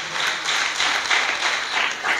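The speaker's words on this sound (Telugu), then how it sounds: "చప్పట్లు కూడా దేవుని స్తుతించండి." A church congregation claps together during a Sunday worship service. Roughly rhythmic group claps repeat over a couple of seconds and fill a large room with no talk over them.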